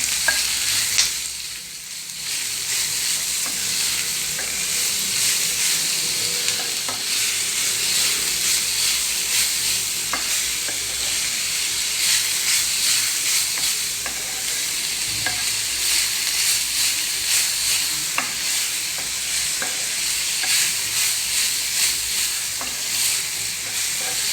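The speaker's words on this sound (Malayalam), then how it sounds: "ഇതെല്ലാം കൂടി നന്നായി മിക്സ് ചെയ്ത് കൊടുക്കുക" Avara (broad bean) thoran mixture stirred in a hot pan, a loud continuous hissing sizzle with repeated spoon scrapes and taps against the pan.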